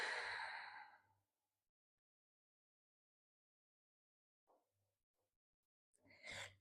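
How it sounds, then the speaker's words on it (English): A long, audible exhale during a yoga flow opens the moment, followed by several seconds of near silence and then a fainter breath and a second sharper breath at the end. "Exhale fully."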